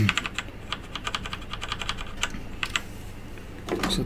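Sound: keys pressed on a GGK mechanical gaming keyboard

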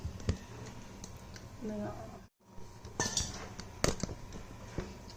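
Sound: cooked rice tipped onto a plate to cool

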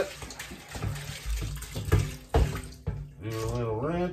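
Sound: water rinsing out a plastic jug

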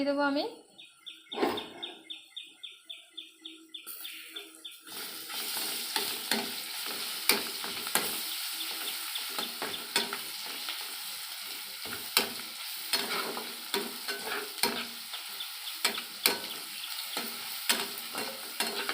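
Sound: onions and garlic sizzling while frying in a pan

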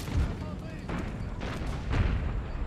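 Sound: cannon artillery fire in Total War video game

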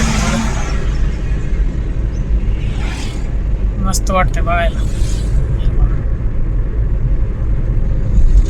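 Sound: vehicle driving along a farm road

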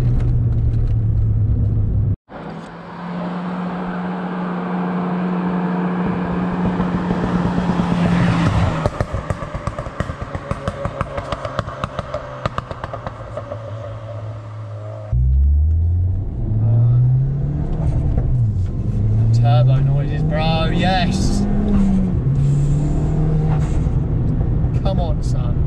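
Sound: Ford Fiesta ST engine revving, boost and overrun

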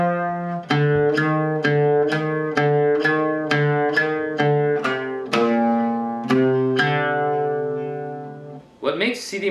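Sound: oud playing last two measures of Sidi Mansour

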